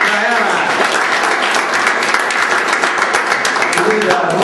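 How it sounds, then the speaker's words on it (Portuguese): An audience at a cineclub screening event claps steadily for a filmmaker, a dense, loud, continuous round of applause filling the room. "Uma salva de palmas para ela."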